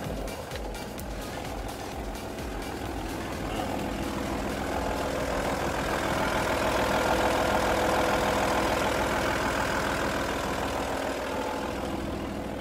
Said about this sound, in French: je vais te faire écouter un peu le moteur